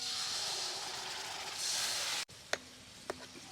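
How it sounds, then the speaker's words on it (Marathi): Ground masala paste and onions fry in oil for a crab masala cooked over a wood-fired stove. A steady, loud sizzling hiss cuts off abruptly, leaving a few sharp clinks. "तेल कांद्यामध्ये वाटण चांगलं परतून घ्यायचं"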